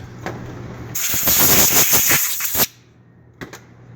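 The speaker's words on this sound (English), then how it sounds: "use compressed air to blow it off" Compressed air blasts debris off the rear brake hub of a 2011 Ford Explorer during a brake job: a loud, close hiss lasting under two seconds with rattling bursts, then cutting off to quiet with a couple of faint clicks.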